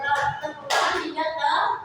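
A group of schoolchildren claps in unison during a call-and-response clapping game, sharp overlapping handclaps mixed with a voice and children's voices.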